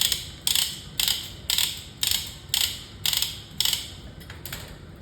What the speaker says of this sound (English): how you crank the ankle strap or make it smaller is you're going to be using this lever right here